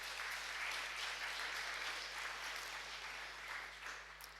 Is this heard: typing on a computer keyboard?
no